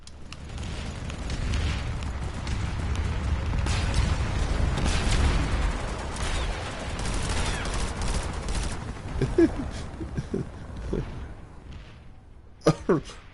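Video game gunfire, a dense continuous barrage of shots and booms that later thins into a few scattered bursts, with a voice speaking over it.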